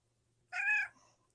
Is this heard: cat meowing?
yes